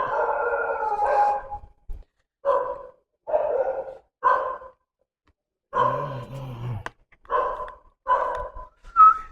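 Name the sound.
dogs barking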